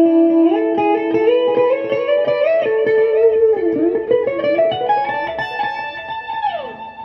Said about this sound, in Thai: อันนี้เป็นเสียงคลีนโซโล